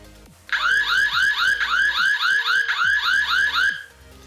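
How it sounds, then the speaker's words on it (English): A smart home security camera's loud electronic alarm siren wails in rapid repeating sweeps for about three seconds, then cuts off. "I'm gonna go ahead and hit the alarm, so it's gonna be a little bit loud."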